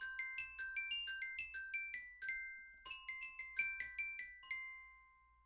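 Bright metallophone hits from a sampled instrument ring out in a quick melodic sequence, each struck note decaying cleanly with a shimmering metallic tone, played alone without talk.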